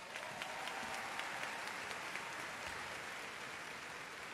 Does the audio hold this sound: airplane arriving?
no